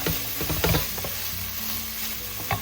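Egg noodle soup ingredients sizzling and crackling in a hot pan, with a few stirring scrapes and clinks near the start.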